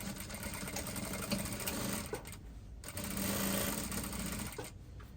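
Sewing machine stitching fabric pieces together with a 1-inch seam allowance for a drawstring dress, a steady close mechanical whir running continuously with brief pauses and slight changes in speed.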